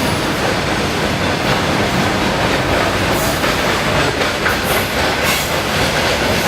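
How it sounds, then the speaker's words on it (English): A passing train gives a loud, steady rumble with a constant wash of rail noise and faint clatter throughout. No voices are heard. "a train passing by."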